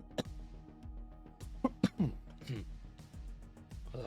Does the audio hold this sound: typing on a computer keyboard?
no